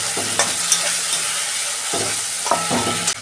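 Spice paste fries in a pan with a steady, loud sizzle, while a spoon stirs and scrapes at a few points.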